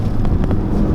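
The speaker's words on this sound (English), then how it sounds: "Little backfire there." Exhaust backfire from a 2017 Ford Focus RS hatchback in regular mode on a twisty back road: a couple of quick, muffled pops over a steady low road and engine rumble.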